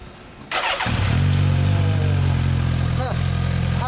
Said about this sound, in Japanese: この GSX のエンジン音から聞かせてもらおうかな